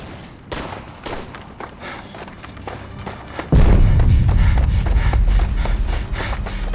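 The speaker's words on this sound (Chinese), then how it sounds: "听这炮声" Battlefield artillery and gunfire from a Korean War film scene, with scattered sharp shots and thuds building into a heavy, continuous rumbling barrage of booms, loud and close, with no talk over it.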